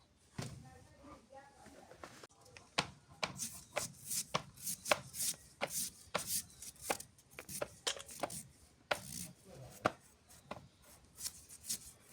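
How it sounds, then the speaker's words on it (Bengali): Rapid knife chopping of onions and chilies on a cutting board, a close, irregular run of sharp chops with brief pauses and bursts of faster strokes, no voices over it. "পেঁয়াজ মরিচ কাটা"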